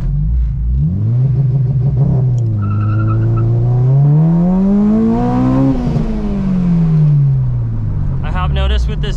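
A hard-launched Acura RSX Type S engine revs up toward 8500 rpm, rising steadily in pitch, then easing off and climbing again, loud and close from inside the car, with brief tire chirp and voices over it.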